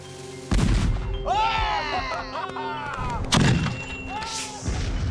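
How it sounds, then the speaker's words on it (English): A heavy cannon blast booms out as it fires a ball and chain, followed by clattering metal and rattling debris, then a second loud thump as something lands, with people's voices scattered around. "The ball and chain shot out of the cannon okay"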